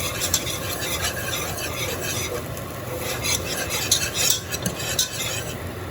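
A whisk stirs a thick macaroni and cheese mixture of butter and flour in a pan, scraping and clinking steadily and continuously up close with a faint sizzle underneath.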